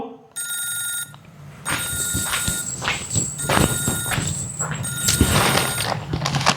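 A telephone rings with a bright, steady electronic bell tone that repeats in sustained bursts, heard close alongside shuffling footsteps and household movement.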